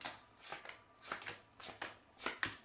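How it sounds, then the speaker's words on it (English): Tarot cards being shuffled in quick repeated riffles, a series of crisp rustling bursts close by with no talking. "Spirit wants me to just shuffle a couple times. So I apologize if it's loud in your earbuds"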